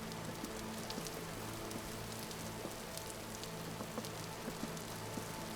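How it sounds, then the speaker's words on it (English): Steady rain falls through the night, a dense hiss of drops with occasional louder patters on a surface, continuous and fairly faint with no voices. "It's the middle of the night and it's raining."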